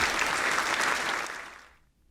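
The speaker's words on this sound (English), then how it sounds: "Please give him another round of applause." Applause from a seminar audience fills the room at a steady level, then thins out and fades to silence within about two seconds.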